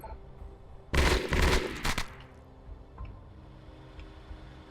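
Burst-fire gunshots in the tactical video game Shadowrun Chronicles: Boston Lockdown, a loud close volley of rapid shots lasting about a second, then a quieter tail with faint clicks.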